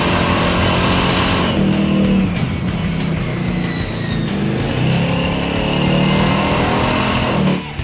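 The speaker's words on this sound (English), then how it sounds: "Sounded almost like a downshift." A race car engine close by in a Draguar versus Randy Pobst drag race, loud and continuous, revving with rising and falling pitch and breaks that suggest downshifts, no voices.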